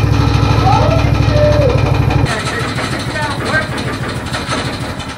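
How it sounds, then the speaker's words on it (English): A Predator 212cc engine on a dune buggy, fitted with a key-start kit, runs as a loud, steady low idle throughout. A strong low pulsing throb is followed by a rougher, busier running tone partway through. "we can go ahead and start the Dune buggy to make sure everything's working"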